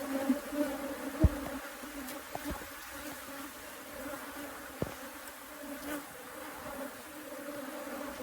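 Honeybees buzz around an opened hive being split after canola bloom in South Africa, a soft, steady hum of many insects with occasional louder passes close by and faint handling knocks.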